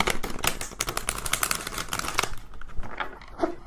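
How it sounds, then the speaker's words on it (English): A tarot card deck being shuffled, giving rapid, dense clicking riffles that run steadily for a few seconds before tapering into softer handling noises. "So hard to shuffle this deck."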